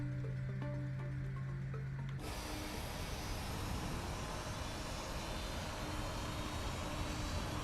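The steady broadband whine and rumble of a CRJ regional jet's engines in a flight simulator, starting abruptly after a quieter opening with a faint tone and then holding loud and constant.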